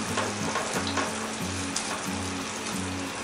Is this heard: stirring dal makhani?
yes